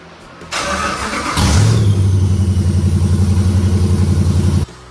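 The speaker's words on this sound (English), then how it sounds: "So now whenever I do this, the car will turn on." A 1968 Dodge Charger with a swapped-in Hemi engine cranks briefly, then fires and settles into a loud, steady, lumpy idle with a rhythmic pulse before cutting off, close up with no talking.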